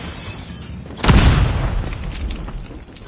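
A flashbang grenade in Call of Duty Mobile goes off with a single loud, close boom, followed by a fading rumble.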